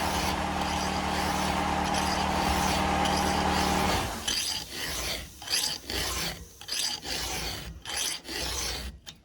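A hand file sharpens a chainsaw chain, first a steady harsh grinding rasp, then a run of quick separate strokes in an uneven rhythm, close and fairly quiet.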